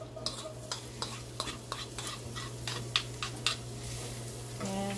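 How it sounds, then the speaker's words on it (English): Green onions frying in oil in a pan while being stirred: a soft background sizzle under a steady low hum, broken by repeated scraping and clinking taps of a utensil against the pan. "I'm gonna go ahead and throw my green onions in."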